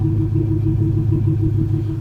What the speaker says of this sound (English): let's give the exhaust a listen